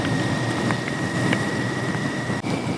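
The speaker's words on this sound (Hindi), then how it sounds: "यहाँ बहुत तेज बारिश हो रही है भाई," Heavy rain pours down in a loud, continuous hiss, with a few sharper taps standing out.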